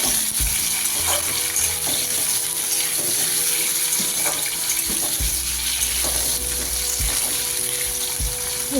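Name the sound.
potatoes frying with black cumin seeds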